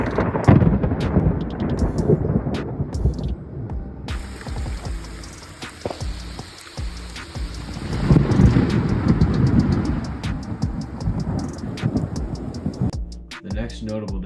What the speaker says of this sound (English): The thunder we got was loud